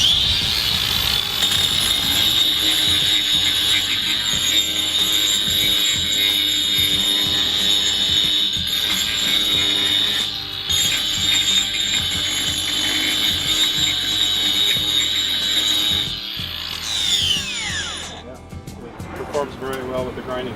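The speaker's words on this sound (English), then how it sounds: "we're just going to go ahead and grind on this quartz here a little bit and see how it performs as far as grinding goes" A Makita XAG17ZU cordless brushless angle grinder with a diamond cup wheel grinds quartz, giving a loud, steady high whine with a gritty scraping texture that runs continuously, then spins down near the end.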